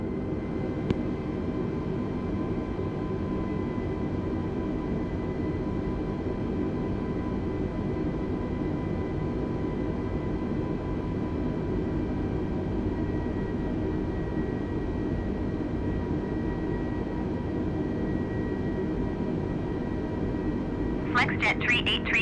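Airbus A320 airliner taking off in a flight simulator, a steady loud jet engine roar with a constant drone lasting throughout, with a brief chirp near the end.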